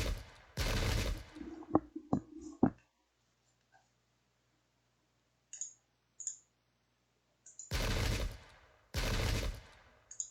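Musket volleys from a Pike and Shot battle between Parliamentarians and Royalists: two loud, dense bursts of massed fire, then a few sharp clicks, a quiet stretch with faint distant pops, and two more heavy volleys near the end.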